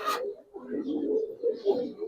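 Silver Giribaz pigeons coo nearby in soft, throaty rolling bursts, continuing with brief dips, after a short sharp noise at the start.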